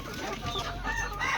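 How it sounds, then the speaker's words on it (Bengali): A flock of twelve vaccinated roosters kept for sale on a farm crows and clucks in a dense, overlapping chorus that stays loud and close for the whole moment, with no talk. "এখানে 12 পিস মোরগ আছে।"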